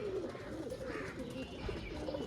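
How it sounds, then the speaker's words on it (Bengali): Flying pigeons coo softly nearby in a faint, low continuous murmur beneath steady background noise. "খুব ভালো কোয়ালিটির ওড়ানের পায়রা আছে"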